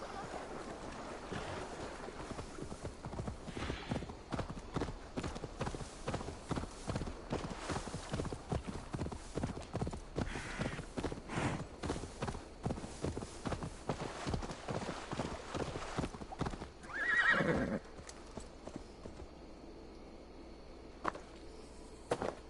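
Rhythmic horse hoofbeats clip-clop steadily at a walking pace in Assassin's Creed Valhalla over a soft, windy background, with a brief whoosh near the end.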